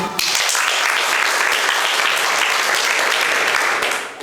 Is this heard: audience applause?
yes